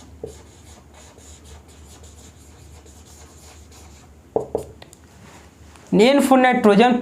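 Chalk or marker scratching across a classroom board in short rubbing strokes, faint at first and louder near the end, with a teacher's voice over it.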